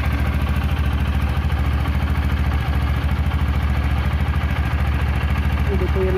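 A TVS Apache RTR 160 4V motorcycle with a leaking petrol line sits idling nearby, a steady, even mechanical chug with faint clatter running throughout, while a person talks over it.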